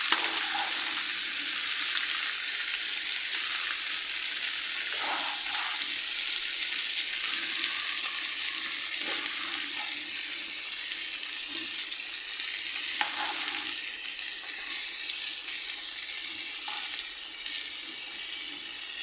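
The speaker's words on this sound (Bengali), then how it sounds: "তেলের সাথে ভালো করে এগুলোকে মিশিয়ে নিচ্ছি" Long beans and potatoes frying in oil make a loud, continuous hissing sizzle, broken every few seconds by the scrape of a spatula stirring them in the pan.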